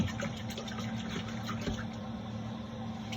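Water poured into a pot of chili on the stove, a soft steady splashing stream heard up close at low volume.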